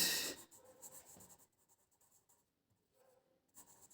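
Pen or pencil scratching across paper as a maths answer is written out, faint and close, in short strokes separated by pauses.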